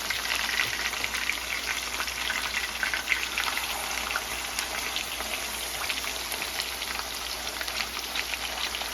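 Four very small pork chops fry in a pan with a steady, dense sizzle and spatter that holds an even level throughout, close by and with no voices.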